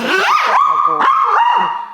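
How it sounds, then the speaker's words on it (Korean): A rescued dog, once abandoned, barking and yipping close by in quick, high-pitched bursts with whining tones, two or three clustered yelps in under two seconds. "그러면 데리고 오셨을 때부터 이렇게 짖기 시작한 건가요?"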